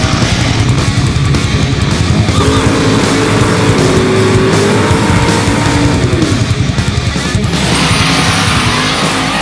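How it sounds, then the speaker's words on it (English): Yamaha Banshee ATV spinning donuts, its two-stroke engine droning loudly and steadily with rising and falling pitch sweeps, tire scrub and skidding mixed in, continuous and close throughout. "He's doing donuts."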